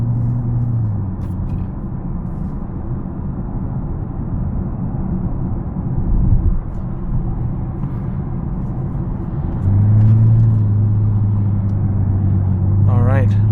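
Dodge Challenger GT Premium cruising at 65 km/h in third gear, a steady low engine and road rumble from inside the cabin with a brief rise in pitch, heard under continuous talking.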